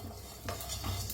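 Green chilies and grated coconut roasting in a pan, with soft scraping and stirring against the metal and a faint sizzle underneath, brief, close and with no voices.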